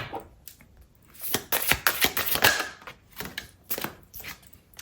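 Tarot advice cards being shuffled close by, with bursts of riffling, flicking card noise that swell and fade in several short rounds.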